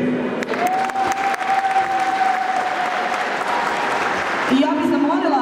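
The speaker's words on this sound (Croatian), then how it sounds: "Molim vas, jači aplauz" Applause at a union's New Year 2016 children's gift-package event, sustained clapping from the hall while a voice and tonal sounds carry over it, swelling again near the end.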